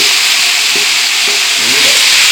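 Pork fried rice ingredients hitting a hot wok, loud, constant bright sizzling that roars steadily throughout, with faint low scraping underneath.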